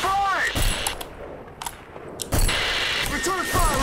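Video game gunfire in Graznei Bridge, with several sharp gunshots and short bursts spaced across the clip, mixed with whining in-game effects and a player talking between the shots.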